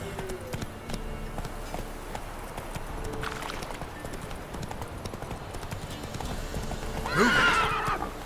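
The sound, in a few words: horse galloping in video game The Witcher 3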